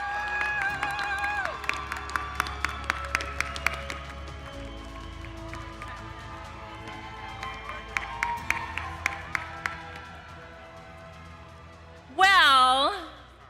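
An audience at a University of Arizona College of Science graduation convocation claps and cheers in a broad, far-off wash, with a voice speaking over it and a brief loud burst near the end.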